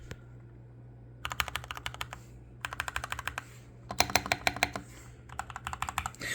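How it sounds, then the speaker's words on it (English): Typing on a Royal Kludge RK96 mechanical keyboard with Gateron yellow switches in quick bursts of crisp, clacky keystrokes, close and clear, separated by brief pauses over a low hum. "It's a Royal Kludge RK96, I believe, with some Gateron yellow switches"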